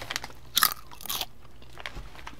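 Crunchy beer chips are bitten and chewed right at the mouth, giving a few sharp crisp crunches in a short burst followed by softer chewing, with no talking.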